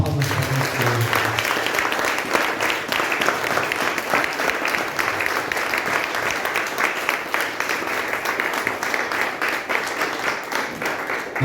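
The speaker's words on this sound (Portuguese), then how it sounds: "Uma salva de palmas para o Senhor." A church congregation applauds in a sustained, even roar of clapping that holds steady for several seconds, full and close, with no speech over it.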